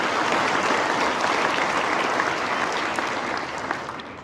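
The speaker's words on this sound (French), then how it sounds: "une bonne main d'applaudissements à nos partenaires de catégorie diamant" A large audience at an agricultural hall-of-fame gala applauds steadily and densely for sponsors, the applause holding strong throughout and easing slightly near the end.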